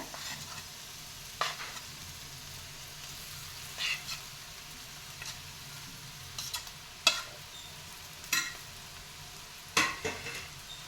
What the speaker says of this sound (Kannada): ರೈಸ್ ಹಾಕ್ಕೊಳ್ತಾ ಇದ್ದೀನಿ